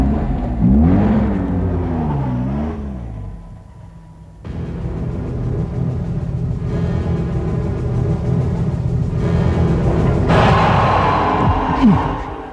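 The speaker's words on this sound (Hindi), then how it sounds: "तू गाड़ी तो शुरू कर" A car engine in a tense drama scene turns over and pulls away, a close rumble with revving rises that settles into a steady drive hum, alone with no talk.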